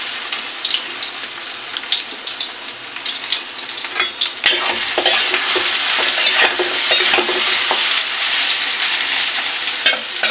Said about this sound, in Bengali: তারপরে এবারে আমি এই সয়াবিনগুলো কড়াইতে দিয়ে ভাজি করে নেব।